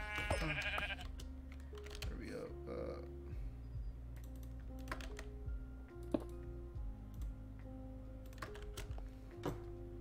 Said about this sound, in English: Another sheep.